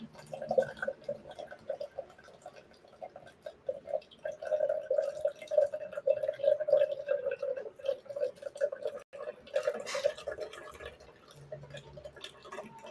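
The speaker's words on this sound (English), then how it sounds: "we're straining it into the shaker" Watermelon juice trickles and drips steadily through a strainer into a cocktail shaker, a continuous close liquid patter lasting several seconds with faint background noise.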